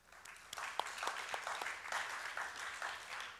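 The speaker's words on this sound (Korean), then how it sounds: "감사하다고 박수하겠습니다" A church congregation at a Sunday worship service applauds in thanks, a soft, somewhat distant patter of many hands that swells after a quiet start and holds steady.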